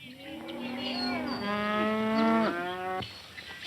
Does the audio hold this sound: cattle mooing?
yes